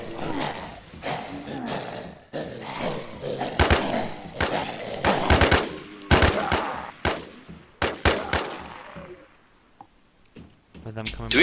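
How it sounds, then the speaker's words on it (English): Gunfire in the zombie video game DevilZMMO: loud, sharp bursts and single shots repeat through a busy game soundscape while players talk over it. "Somebody's shooting at me."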